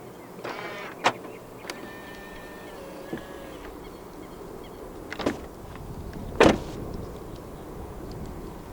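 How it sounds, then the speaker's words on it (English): The frameless side windows of a 2024 smart #1 Brabus electric car whir briefly as they drop, with door latch clicks and thumps from opening doors nearby, against a quiet outdoor background. "The windows dip down a little bit as you open the doors to clear the door frame."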